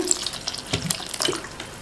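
Tap water splashes and pours into a bowl in short bursts, close and fairly loud, with no voices.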